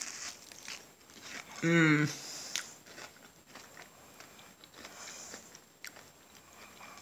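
A bite of a slightly burnt apple fritter being bitten and chewed up close, with soft crunching and mouth sounds and a brief appreciative hum from the eater.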